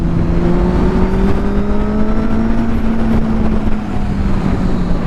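A Kawasaki Z800 inline-four motorcycle engine pulls hard under acceleration, its loud, steady drone climbing slowly in pitch, close and continuous with no talk over it.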